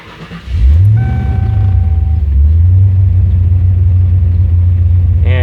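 A 1995 Ford Mustang GT V8 with junkyard mufflers fires up and settles into a loud, deep, steady bass-heavy idle rumble, with a brief rev dip partway through.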